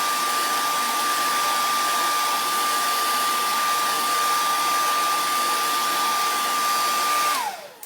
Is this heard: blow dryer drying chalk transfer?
yes